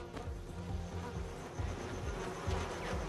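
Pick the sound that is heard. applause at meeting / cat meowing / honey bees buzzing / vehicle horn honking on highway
honey bees buzzing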